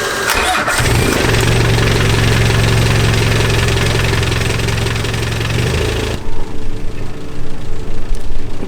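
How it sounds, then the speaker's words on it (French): A boat engine cranks and roars steadily for several seconds, loud and close, then drops to a rougher, pulsing idle. "Le moteur est parti"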